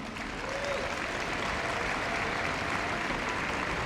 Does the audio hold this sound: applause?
yes